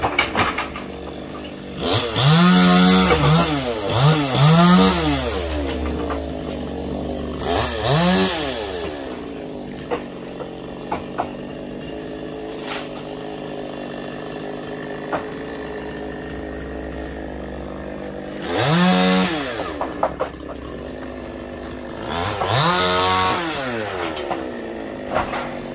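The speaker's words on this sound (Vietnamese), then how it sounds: "để coi quá trình cưa của cái cây sung của anh Sang." A chainsaw cuts down a fig tree, loud and close, its engine repeatedly revving up into high whining bursts and dropping back to a rough idle between cuts, with no voices.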